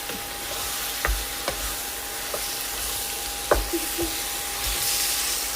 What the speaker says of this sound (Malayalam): ഇനി അതിലേക്ക് ചിക്കൻ ചേർക്കാം നന്നായിട്ടൊന്ന് മിക്സ് ചെയ്യണം